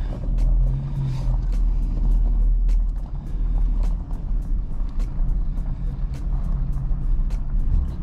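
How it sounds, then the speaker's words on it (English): A vehicle engine rumbles steadily at close range with a low idling drone while backing a bass boat trailer down a boat ramp, with faint ticking and water-like noise in the background. "Back the boat down the boat ramp."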